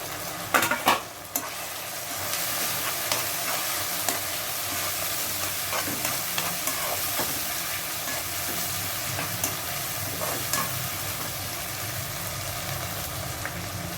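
Tomatoes, curry leaves and green chillies stir-fried in a pan, a steady loud sizzle with scraping stir strokes throughout and a few sharp clacks near the start, no voices.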